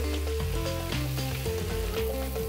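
Shrimp sizzle steadily in garlic butter in a pan while being stirred, a close, continuous frying hiss with soft scraping, alone without talk.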